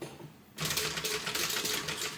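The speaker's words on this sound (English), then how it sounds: "So I'm just going to stitch over this." A sewing machine stitches over a bag strap, starting abruptly after a brief quiet moment and running as a fast, steady, close mechanical chatter to the end.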